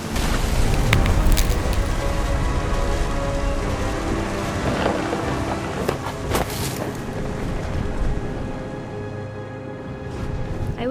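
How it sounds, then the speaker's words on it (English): Steady heavy rain and rolling thunder of a storm in the video game What Remains of Edith Finch, a dense continuous downpour with deep rumbles swelling through, loud and close with no voices. "The thunder sounded much too close and full of angry power."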